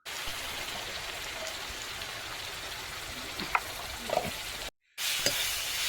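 Chicken biryani masala with chili powder, turmeric and salt frying in oil and being stirred, a continuous close sizzle with a few scraping stir sounds, a brief gap, then the sizzle resumes.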